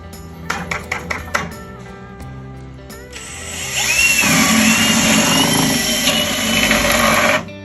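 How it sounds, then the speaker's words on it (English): A few quick drill bursts, then a long steady whine as the bit grinds through a wooden joist for several seconds, loud and close, before stopping. "There's one more joist to drill."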